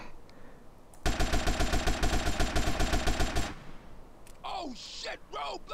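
Rapid automatic gunfire in the video game GTA San Andreas rattles loudly in one sustained burst of about two and a half seconds, followed by brief vocal sounds.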